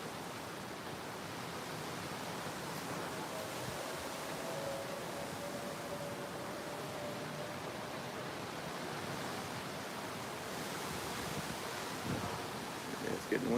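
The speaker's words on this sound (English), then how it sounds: "it's the wind natural, provided by nature, that you're listening to, Danny." Wind blowing outdoors as a storm approaches, a steady broadband rush with gusty texture that stays constant and fairly loud, with a faint tonal whine drifting through the middle and a few louder buffets near the end.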